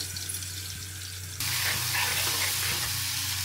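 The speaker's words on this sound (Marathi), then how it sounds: "आलं लसणाची पेस्ट केलेली ती टाकून घेऊया" Ginger garlic paste hits hot oil in a pan for a fish curry, bursting into a loud, steady sizzle that swells abruptly partway through and holds dense and close, with a low hum beneath and no talking.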